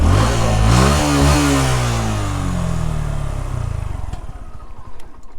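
A Suzuki Gixxer SF FI ABS motorcycle engine revs loudly up and down nearby, then settles into a rough, chugging idle.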